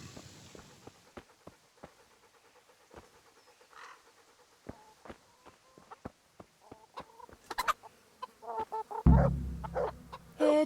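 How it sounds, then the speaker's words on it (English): Chickens cluck softly and scratch about in Kingdom Come: Deliverance, with short pecks and steps ticking in an irregular rhythm. Busier clucking and a louder rustle break in near the end. "Feed the chickens."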